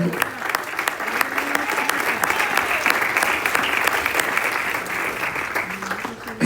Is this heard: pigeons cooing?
no